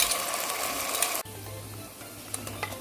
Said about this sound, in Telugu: ఇప్పుడు అల్లం వెల్లుల్లి పేస్ట్ వేసేస్తున్నాను అందులో. అది కూడా పచ్చి వాసన పోయేంత వరకు ఫ్రై చేసుకోవాలండి.